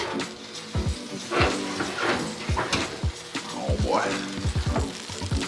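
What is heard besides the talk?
baked brown trout sizzling in the oven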